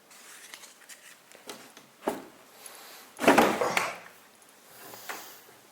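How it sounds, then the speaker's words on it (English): An old, stiff wooden drawer in an abandoned mansion is worked open, giving a few soft knocks and then a loud scraping rumble as it slides. Fainter taps and rattles follow in a quiet room. "As soon as I open the drawer"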